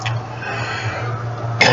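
A single short, harsh cough from a person with a cold, close and loud, near the end of a brief stretch of quiet room tone.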